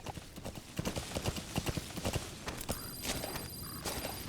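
Horse hooves clip-clop in a steady trotting rhythm in the video game Metal Gear Solid V: The Phantom Pain, close and fairly loud, joined later by high ringing electronic tones over the hoofbeats.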